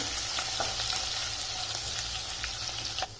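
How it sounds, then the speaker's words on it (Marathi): Crushed garlic and ginger fry in hot oil, a continuous close sizzle and crackle with faint occasional stirring, heard alone without speech. "थोडंसं परतवून घ्यायचं लसण आणि अद्रकचा कच्चेपणा निघायला पाहिजे"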